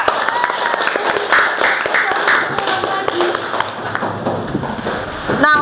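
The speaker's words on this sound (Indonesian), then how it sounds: "silakan memberikan aplaus dulu untuk kelompok ketiga" Classroom applause for the third student group, a steady crackle of many hands clapping together for about five seconds at moderate loudness, with faint voices murmuring underneath.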